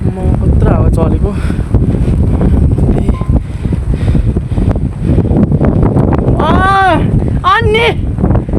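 Strong outdoor wind in a village blasts steadily across the microphone with a heavy rumbling roar, while people talk over it and a brief whistle-like tone rises near the end.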